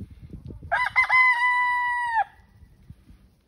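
A rooster gives one loud, close crow with a long held final note at a farm hen house in North Fort Myers, with faint clucking and farmyard noise before and after.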